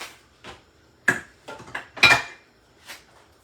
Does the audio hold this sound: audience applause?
no